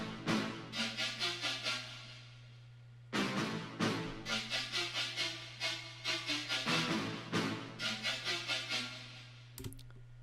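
A trap drop built in Ableton Live, with a call phrase answered by a second melodic phrase: repeated bright plucky synth notes in quick rhythmic bursts over a steady sustained bass drone, two passages separated by a brief gap.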